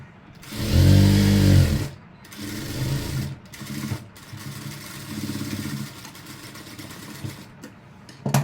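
A sewing machine stitches elastic uniform pants in loud, close bursts, a long whirring run followed by shorter starts and stops as the fabric is repositioned.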